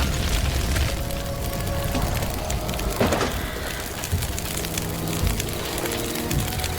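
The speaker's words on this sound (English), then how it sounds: "Fire would spread dangerously quickly, trees would burn to a crisp" Wildfire crackling and roaring through savanna trees in Far Cry 2, a steady dense rush of burning with a few louder bursts and booms, heard alone without voices.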